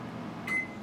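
A microwave oven heating homemade Butterfinger candy hums steadily, then gives a single short beep at its finish.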